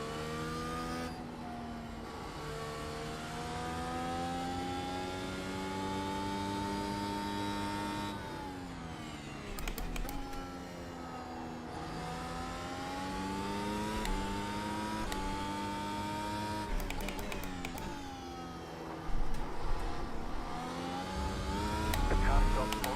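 BMW LMDh prototype race car engine in the iRacing sim, its tonal whine climbing and dropping through repeated upshifts and lifts, loud and continuous across the stretch.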